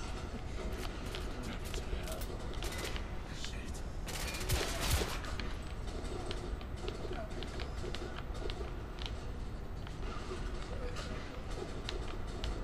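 Enemy gunfire in the video game The Order: 1886: dense, steady volleys of shots crackle throughout, thick and continuous, with a brief louder flurry near the middle and muffled game ambience underneath.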